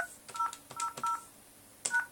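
Touch-tone dialing beeps come from a Cisco IP phone calling a test extension, a series of short, close keypad tones in quick uneven bursts with a pause before a final pair.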